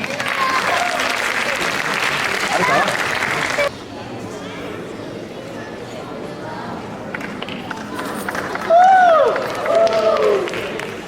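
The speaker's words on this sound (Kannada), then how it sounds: "ದಯವಿಟ್ಟು ನಿಮ್ಮ ಚಪ್ಪಾಳೆಯೊಂದಿಗೆ ಸ್ವಾಗತಿಸಿ" A stage audience claps in welcome as performers are called on, a dense loud burst of applause that drops away partway and gives way to a singing voice over the quieter crowd.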